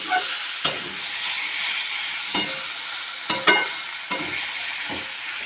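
Green banana and vegetables fry in oil with poppy seed paste, a steady bright sizzle broken by several sharp stirring scrapes at irregular intervals, close and fairly loud.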